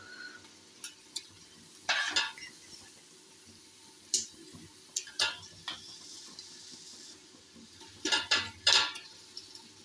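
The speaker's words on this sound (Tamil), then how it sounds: "நல்லா வதங்கினதுக்கப்புறம் இப்போது கழுவி வச்சுருக்க கறியை சேர்த்துக்கிறோம்." Washed chicken pieces go into a pan of sautéed tomatoes for a street-style biryani, with quiet sizzling under scattered clinks and scrapes of a spoon against the pan, several sharp knocks near the end.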